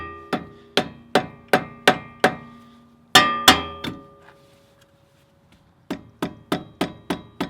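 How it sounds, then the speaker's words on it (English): Rubber mallet striking a car suspension strut on a Focus RS fitted with Mountune sport springs, several quick rounds of sharp, resonant blows with ringing metallic decay, a short quiet gap, then another burst of strikes. "we'll take a rubber mallet and give it a couple hits"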